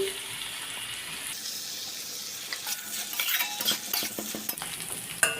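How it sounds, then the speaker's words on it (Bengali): Raisins and vegetables frying in ghee sizzle loudly and steadily up close, joined midway by clattering stirring against the pan. "এবার এগুলো একসাথে ভালো করে ভেজে নেব দিয়ে দেবো দু চামচ মতো ঘি"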